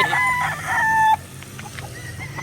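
A gamefowl rooster crows loudly and close by at a game farm, one strained call lasting about a second, then quieter clucks and farmyard background.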